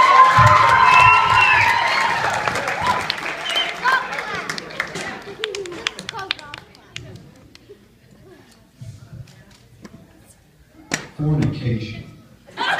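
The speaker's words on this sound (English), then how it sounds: "So let's give her another round of applause." Wedding guests clap and cheer for the maid of honor at a reception, a loud burst of applause and whoops with excited voices that fades into scattered claps, talk and a brief later outburst.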